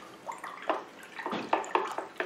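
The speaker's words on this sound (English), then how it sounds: "You don't need much, just a little drip there." A small amount of water is poured into a Miltoniopsis orchid pot, making soft, close trickles and patters in several short bursts.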